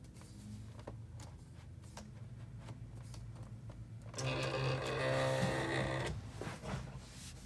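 Electric cutting machine running with sticker paper loaded, a steady mechanical whir rising louder in the middle as the carriage moves, with small clicks and taps around it.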